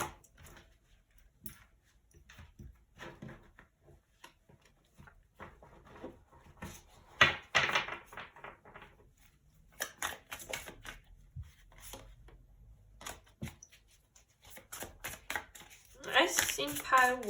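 Tarot cards are shuffled in quiet, irregular bursts of soft riffles and flicks, with louder fluttering passes toward the end and low talk here and there.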